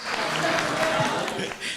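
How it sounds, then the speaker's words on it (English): A conference audience applauds a speaker talking about living with multiple sclerosis. The clapping is a steady, dense patter that lasts the whole short moment, with no voices over it. "Are you clapping that I have MS?"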